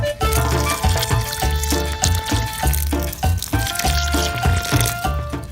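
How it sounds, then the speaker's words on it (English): Newly planted jalapeno pepper plants get watered in, a loud close stream of water gurgling and splashing onto soil in uneven pulses throughout. "I still want to water these in right away"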